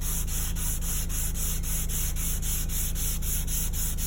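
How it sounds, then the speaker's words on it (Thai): Wet sanding of car body filler, a steady continuous rubbing and scraping with a faint rhythmic pulse, close and sustained with no speech. "ทีนี้ขัดน้ำนะครับครับ"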